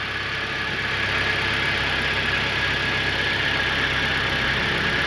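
A Kia Rio engine idles right after its idler pulley tensioner bearing was replaced, a steady, smooth hum with a faint high whine, heard close and continuous with no talk.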